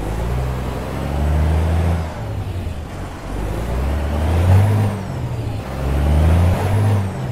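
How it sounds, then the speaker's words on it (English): A Peterbilt 388 wrecker truck in American Truck Simulator idles low while creeping at about 3 or 4 miles an hour, its deep steady engine rumble swelling and easing in slow waves, close and loud. "even at low idle, look at that, about 3 or 4 miles an hour, you're supposed to hear that truck."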